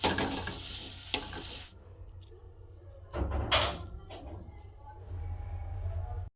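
Mustard seeds, green chili paste and boiled potatoes fry in a hot pan, giving a loud hiss that fades, then swells again with stirring clatter and sizzle; no one talks.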